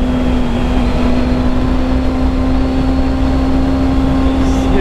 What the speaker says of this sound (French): j'aime bien le bruit du petit bicylindre là, ça rappelle les SV un peu